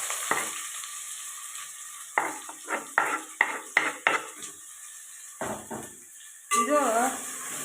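Chopped onions drop into hot oil with crackling curry leaves in a pan while bottle gourd palya is cooked, giving close, intermittent sizzling bursts and scraping stirs, then a louder spit of frying near the end.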